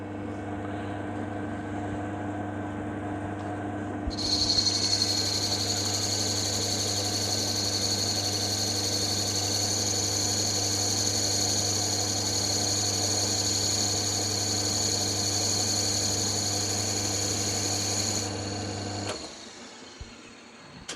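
A machine tool takes a light cut on Tufnol: a steady motor hum runs throughout, joined by a continuous high-pitched cutting whine for most of the clip before the machine winds down near the end.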